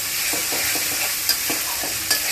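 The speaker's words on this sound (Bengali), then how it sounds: "তো মাছটা দিয়ে আর একটু কষিয়ে নেব, বেশ খানিকক্ষণ মাছটা দিয়ে কষিয়ে নেব।" Rohu fish pieces sauté in a hot pan with a steady broadband sizzle, punctuated by faint periodic scraping strokes of stirring and a couple of sharper clinks.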